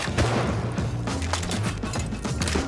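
Explosive ammo fired in a Rust raid, a rapid crackling burst of shots with sharp impacts and thumps, dense and chaotic over a low rumble.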